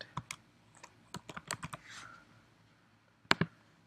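Computer keyboard typing in a charting program, entering a custom trend line name: a burst of quick, close key clicks in an uneven rhythm, then a pause and a final pair of sharper keystrokes, with no talk.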